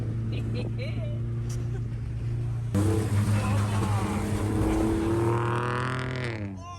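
A Mitsubishi Pinin's engine drones steadily, then grows louder and rougher as it accelerates over loose beach sand, with wind buffeting and a voice briefly audible.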